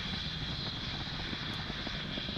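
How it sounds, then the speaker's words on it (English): Steady, distant rumble of a SpaceX rocket's Merlin 1D engines during ascent near max Q on a OneWeb launch, a continuous broadband roar heard faintly and evenly, with no voices. "At the point of max Q, we throttle the Merlin 1D engines down briefly to reduce the loads on the vehicle"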